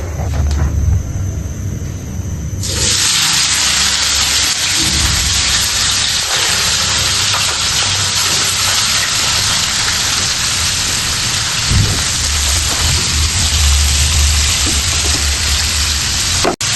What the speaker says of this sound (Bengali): আশা করি তেল গরম হয়ে গেছে। এখন বেরেস্তার পেঁয়াজগুলো ছাড় করতে হবে।